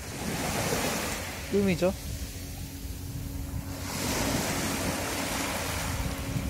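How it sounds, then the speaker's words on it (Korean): Calm sea waves wash gently onto the shore at Gangneung as a soft, continuous surf rush with wind noise on the microphone. A person speaks briefly near the start. "파도가 보시기에도 굉장히 잔잔합니다"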